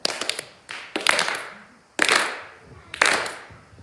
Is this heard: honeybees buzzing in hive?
no